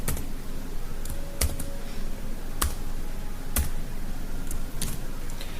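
Code being typed on a computer keyboard: sparse, separate key clicks fall in small bursts over a steady, quiet room hum, close and fairly distinct, with no voices.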